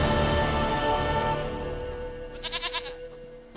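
A goat in The Witcher 3 gives a short wavering bleat after a loud, fading ambient wash, the quick vibrato cry standing out clearly near the end.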